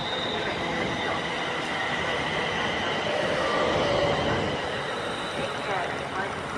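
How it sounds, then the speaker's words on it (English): Train pulling away from a station platform on the Avanti line through Wolverton and Northampton, a steady loud rumble with high wheel squeal and brake hiss rising around the middle, mixed with faint platform voices. "Stand back at the platform until the train takes off."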